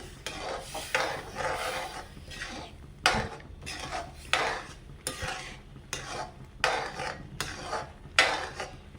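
Upma being stirred in a pan, a ladle scraping and clattering against the metal in repeated rhythmic strokes about once a second, close and clear with faint sizzling underneath.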